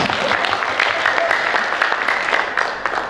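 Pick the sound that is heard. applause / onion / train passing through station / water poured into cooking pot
applause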